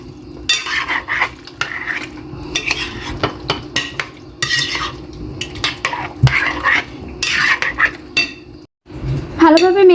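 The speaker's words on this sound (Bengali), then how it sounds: "এখন আমি মেখে নিচ্ছি।" A spoon mixes a fruit dessert with coconut jello in a bowl, making repeated close scrapes, wet squelches and clinks against the dish in an uneven rhythm.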